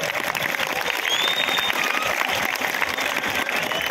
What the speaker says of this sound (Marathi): हा डबल टाळ्या जोरातच वाजल्या पाहिजे